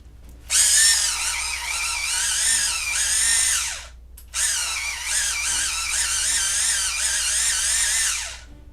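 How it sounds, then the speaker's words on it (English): An electric pencil sharpener grinds a colored pencil in two long, high-pitched whirring bursts separated by a short pause, close by, with a wavering pitch as the pencil is sharpened. "This is a great sharpener, guys, for color pencils."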